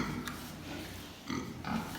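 Pigs grunt and snuffle close by in a short burst, with a steady background hum and no talking.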